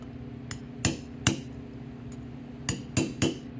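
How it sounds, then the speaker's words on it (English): A metal punch taps lightly on a Tecate 4 part during a full rebuild, giving sharp metallic clinks: a few faint taps, then louder pairs and a final cluster of three, close by in a quiet room with no talking. "it's okay to tap on that lightly with a punch or a socket"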